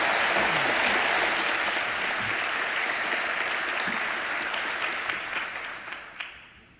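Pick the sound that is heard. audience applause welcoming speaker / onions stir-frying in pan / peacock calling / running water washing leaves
audience applause welcoming speaker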